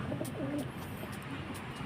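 Racing pigeons coo softly in a loft, a low murmuring burble of a few overlapping calls heard close against a steady background hiss.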